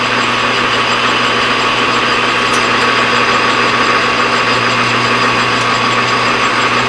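A lathe spins mild steel tubing with a loud, steady whirring hum and a faint metallic rattle, unbroken and close, with no talking.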